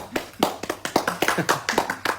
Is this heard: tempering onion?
no